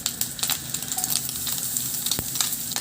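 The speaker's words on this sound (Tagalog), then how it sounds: "igisa ko na rin yung" Garlic sautéing in a pan for a pork and broccoli dish: a continuous close sizzle and crackle of frying, with light stirring scrapes, and no voices.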